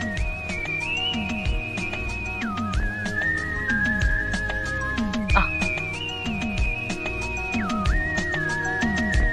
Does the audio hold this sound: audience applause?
no